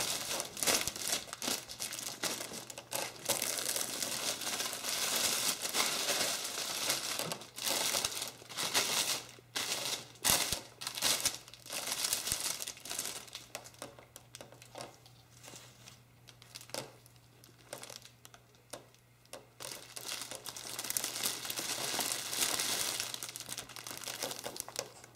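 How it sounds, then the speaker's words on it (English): Cellophane is gathered and pulled tight over the handle of a fall gift basket, crinkling and crackling continuously in close, uneven bursts with no talking. "I'm just gathering the cellophane over the top of the handle, and just be careful as you're pulling on it so that it's tight enough"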